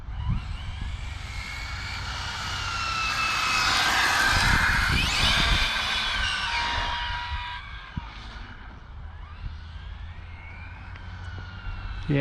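An Arrma Felony 6s RC car's motor runs with a loud, high whine that swells to a peak midway, then eases off and keeps droning with shifting pitch, close by and free of speech.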